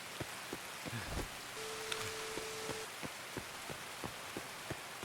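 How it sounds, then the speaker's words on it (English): Steady rain in the video game Escape From Tarkov, a constant hiss of falling water with scattered faint drip ticks, heard alone at moderate level. "when you're inside, the rain gets noticeably quieter than outside"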